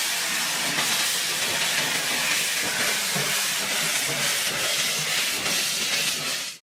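Loud, steady hiss of steam venting from a steam locomotive, broad and continuous for several seconds with faint rail-like rumble beneath, then cutting off abruptly.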